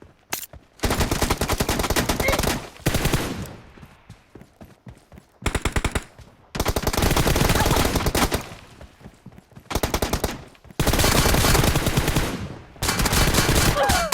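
Loud automatic gunfire from the mobile game PUBG Mobile comes in long rapid bursts separated by brief gaps, dense and continuous across the whole stretch.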